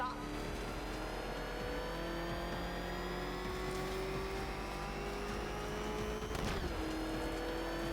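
Batmobile engine in the video game Batman: Arkham Knight holds a steady loud rumbling drone with rising pitch sweeps, revving continuously throughout, with a brief surge near the end.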